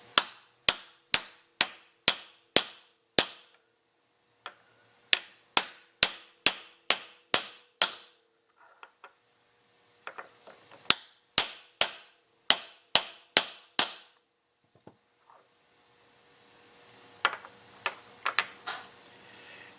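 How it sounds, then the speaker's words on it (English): Sharp metallic hammer taps on a 1-inch driver seating a part on a Ford, struck in quick bursts of about six to eight blows separated by short pauses, close and crisp with faint hiss between. "just keep tapping until you'll hear the sound change when it bottoms out"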